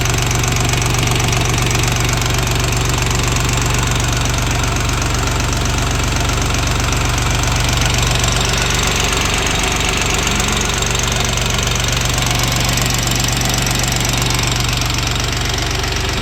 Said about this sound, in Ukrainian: Ось так працює мотор після капіталки.